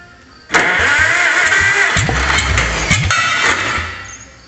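A car engine catches and revs while its distributor is being adjusted, a loud steady mid-pitched roar with uneven throttle blips and surges, then easing slightly toward the end with no talk.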